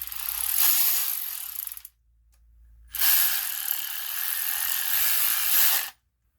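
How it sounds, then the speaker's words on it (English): A Vevor 12-volt cordless ratchet wrench runs in two bursts, a steady high mechanical whir of about two seconds, a short pause, then a longer run of about three seconds before it stops. "The Vevor ratchet has a 12-volt motor, 33 foot-pounds of torque"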